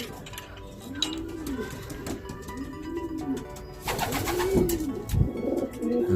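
Racing pigeons in a loft coo repeatedly, soft rolling calls rising and falling at close range, several overlapping throughout amid faint background noise.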